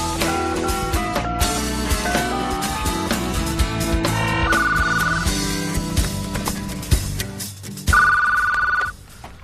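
A telephone bell ringing in two clear bursts, loud and close, layered over a busy music bed with no talk.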